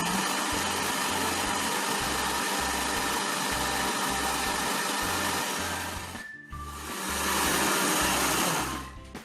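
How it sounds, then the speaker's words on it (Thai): An electric blender whirring steadily as it blends mayonnaise salad dressing with sugar, loud and close, the motor pausing briefly before spinning up again, with no talking. "ากนั้นเราก็ปิดฝาปั่นเลยนะคะ ปั่นจนน้ำตาลละลายนะคะให้เข้ากันดีนะคะ"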